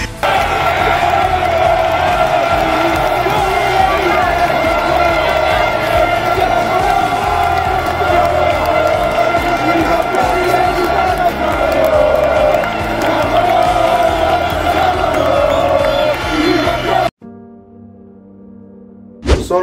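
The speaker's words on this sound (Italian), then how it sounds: "la piazza era praticamente piena di tifosi napoletani" Dense crowd of Napoli fans roaring and cheering in a packed piazza, a loud continuous wash of voices and shouts that cuts off abruptly near the end.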